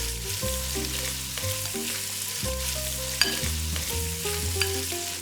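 Bolognese ragù sizzles steadily in a hot pan, a constant crackling hiss with tonal music playing underneath throughout.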